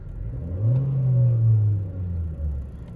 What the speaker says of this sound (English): I'm going to snap the throttle